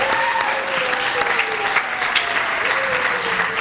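A high school audience at a Hispanic Heritage Month event gives a round of applause, a thick, continuous clapping wash at even loudness with faint vocal tones drifting underneath.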